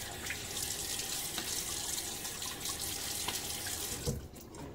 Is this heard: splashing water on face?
yes